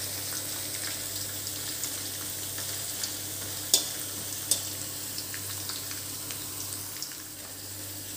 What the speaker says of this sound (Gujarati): થોડા બ્રાઉન કલરના થાય ત્યાં સુધી આપણે એને શેકાવા દઈશું.